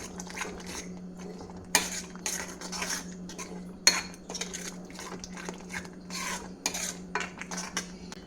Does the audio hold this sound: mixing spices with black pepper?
yes